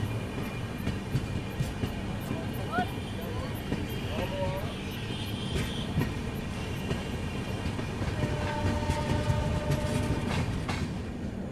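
A Vaishali Express passenger train (New Delhi to Lalitgram) arriving at Saraigarh Junction station gives a steady low rumble with a faint rhythmic clatter, heard alongside quieter background voices.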